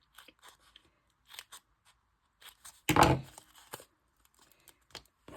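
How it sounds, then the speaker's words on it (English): A piece of tape is pulled and torn off during card making, one loud rasping rip near the middle surrounded by small crinkles and taps, close by in a quiet room. "I'm just going to put a piece of tape."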